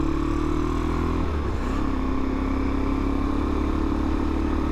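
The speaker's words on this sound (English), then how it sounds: "that exhaust, it sounds great, but it's relatively quiet." Suzuki Van Van motorcycle with a CCM engine runs with a fairly quiet exhaust, a close, steady engine note that shifts pitch briefly early on, with no talking.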